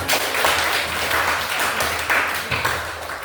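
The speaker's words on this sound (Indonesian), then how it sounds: "Oke, tepuk tangan untuk Jessica." A class claps for a student, a dense, fairly close patter of many hands that stays steady with slight surges and no speech over it.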